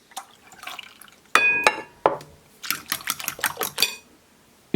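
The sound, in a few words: milk poured into potato gratin mixture and stirred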